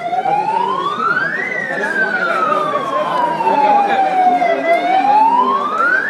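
A loud wailing civil alert siren during a mock drill sweeps slowly up, then glides down and climbs again, sustained and steady throughout with faint background noise.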